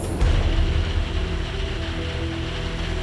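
Steady, broadband hiss of rain pouring down continuously, with a low rumble underneath and no talking.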